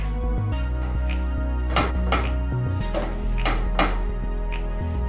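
Butter and chickpea flour being stirred and broken up in a pan for chickpea sweets, a utensil scraping and knocking against the metal in irregular strokes over a steady background hum, with no talking.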